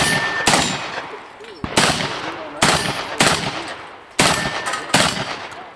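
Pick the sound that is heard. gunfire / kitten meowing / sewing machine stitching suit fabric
gunfire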